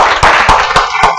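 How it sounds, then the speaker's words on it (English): Students in a medicine quiz class clap loudly together, four or five sharp bursts of applause over about a second, close and dense, with no voices. "please give another loud clap"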